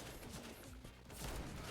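Rapid, loud gunfire from a weapon in a first-person video game, a dense stream of close shots with little pause over a couple of seconds.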